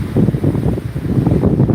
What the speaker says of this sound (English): this is one of those gusts.